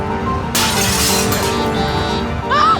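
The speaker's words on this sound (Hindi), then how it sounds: "कांच टूटने की आवाज आई" Glass shatters suddenly in a household setting, a loud bright crash followed by a spreading tinkle of breaking shards that fades, then a brief rattle near the end.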